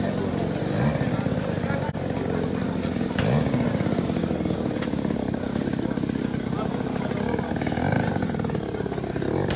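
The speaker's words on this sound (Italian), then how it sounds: "Questo è a scoppio 5 centimetri cubici." A 5 cc two-stroke combustion engine on a model aircraft at a flying club meeting runs at a loud, steady, buzzing drone that does not let up, with people talking over it.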